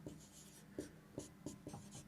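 Chalk or marker writing on a board during a geometry lesson, with a series of short, faint scratchy strokes in an uneven rhythm, quiet and close with no talk over it.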